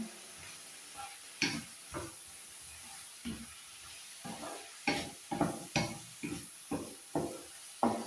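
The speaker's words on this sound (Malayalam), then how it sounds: "ഇതുപോലൊക്കെ എണ്ണ ഇളക്കി കൊടുക്കുകയാണ് ഞാൻ" Oil stirred in a pan over a medium flame on a home stove makes soft intermittent scraping and swishing strokes, each brief and fairly close, repeating irregularly under a faint steady hiss.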